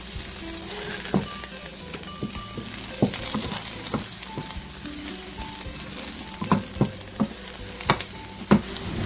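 Onion softens in a frying pan with a steady low sizzle, punctuated by occasional sharp scraping and tapping stirs, close by with no talk.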